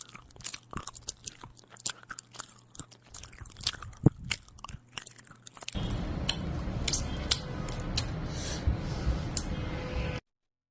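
Someone biting and chewing food, with wet crunchy bites and smacking close to the mic in short bursts, then a denser, noisier stretch of continued munching before an abrupt cutoff.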